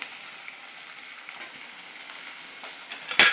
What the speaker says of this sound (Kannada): ಈಗ ನಾನು ಇದನ್ನು ಫ್ರೈ ಮಾಡ್ಕೊತೀನಿ